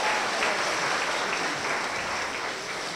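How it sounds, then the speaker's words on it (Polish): An audience applauds steadily at a gala concert opening, a dense continuous clapping that stays loud throughout without speech. "Wielkie brawa dla Świętego Mikołaja."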